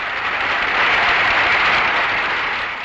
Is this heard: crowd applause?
yes